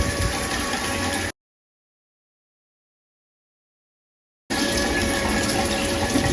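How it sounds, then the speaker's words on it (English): Water runs steadily from a leaking LED shower head, a constant close hiss of spray that cuts out completely for a few seconds, then resumes just as strong. "There's a little bit of leak over here."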